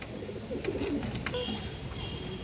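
A pair of domestic pigeons in a hobbyist's loft coos softly, low throaty murmurs buried in steady background noise and faint distant chirps.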